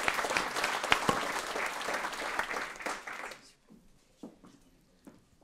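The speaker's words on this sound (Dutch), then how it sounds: "Mag ik nog één keer een groot applaus voor Jacqueline?" Audience applause at an Amsterdam panel event on climate adaptation, a dense burst of clapping for a departing guest that thins out after about three seconds into a few scattered claps.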